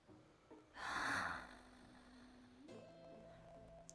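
A person mimics someone's snoring with their voice: one long, harsh, rasping snort-like inhale near the start, then a quieter sustained nasal tone trailing off, close and fairly loud.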